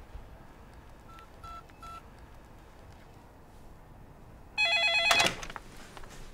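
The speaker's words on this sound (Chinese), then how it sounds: "打个电话问问" A telephone number is dialed: a few short keypad tones early, quiet background, then a louder burst of rapid dialing beeps.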